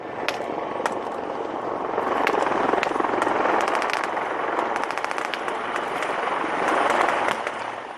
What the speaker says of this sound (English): the 2 847 Naval Air Squadron Wildcat AH-1s are coming in